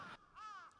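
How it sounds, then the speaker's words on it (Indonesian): A crow in a video game gives a single short, harsh caw, faint and slightly distant, with no talk over it. "Ada suara burung gagak lagi."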